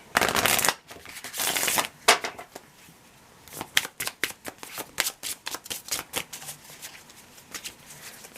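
Mystic Misfits oracle cards being shuffled: two long riffling bursts, then a rapid series of crisp, close card taps and slaps in an uneven rhythm, with no talking.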